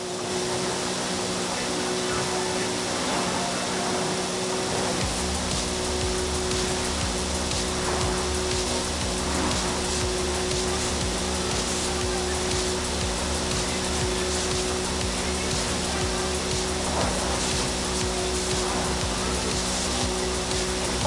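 Steady rain in the Forza Horizon 5 video game in Mexico, a continuous hiss of falling drops over a low constant hum, even and unbroken for about twenty seconds.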